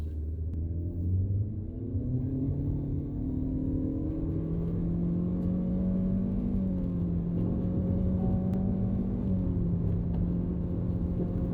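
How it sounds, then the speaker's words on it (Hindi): An MG Astor with a CVT accelerates hard from a standstill, its engine holding a steady droning whine that rises gradually and continuously without gear-shift breaks, heard from inside the cabin with no talking. "एक बार यहाँ गाड़ी को रोक के ना इसका 0 to 100 करते हैं"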